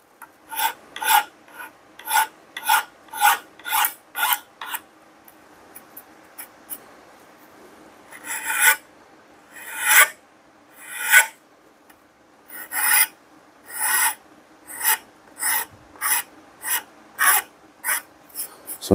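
A wooden handle for a double-bit cruiser axe is shaped and its edges chamfered with repeated sharp, rasping strokes, close and crisp, in an uneven rhythm with short pauses between runs.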